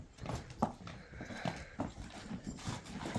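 A three-year-old horse walked on a farm in Kyrgyzstan, its hooves giving an uneven series of soft, fairly close clip-clop thuds that carry on steadily throughout.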